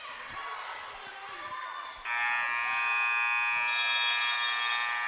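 At a women's college basketball game, Citrus at Antelope Valley, the arena buzzer ends the quarter with a loud, sustained electronic blare that cuts in over soft crowd and court noise and holds steadily to the end.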